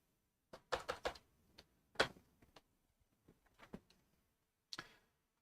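Sparse, irregular clicks of keys pressed on a computer keyboard, close and quiet, in short bursts with gaps between them and no voices.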